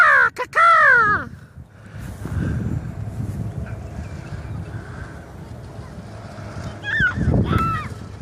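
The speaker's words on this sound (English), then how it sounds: "You know what kind of sound that bird makes? Yeah. Caw-caw, caw-caw." A bird caws loudly and nearby in a quick burst of harsh calls at the start, then calls again near the end, over a steady low outdoor rumble.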